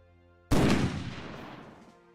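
A single heavy blast from the Halo Reach AA gun in a Halo 3 Lich vehicle mod cracks out after a short quiet moment, then rumbles away over about a second and a half, with no voices.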